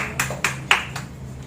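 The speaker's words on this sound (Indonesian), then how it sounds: "tepuk tangan untuk kawan kita sudah" Three or four sharp, separate claps ring out in a classroom during a teaching practice lesson, brief and fairly close with no talking.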